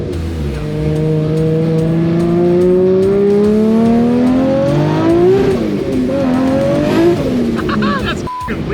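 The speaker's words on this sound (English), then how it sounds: "This is my first run in a manual JZ Cressida at this kind of power level" A manual JZ-engined Toyota Cressida tuned to around 800 hp accelerating hard, its engine note climbing loud and close through a long rising pull, then easing off near the end.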